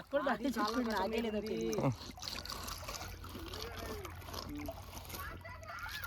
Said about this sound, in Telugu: ఇంత ఫ్రెష్ గా ఉండే నీటిలో స్నానం చేయాలి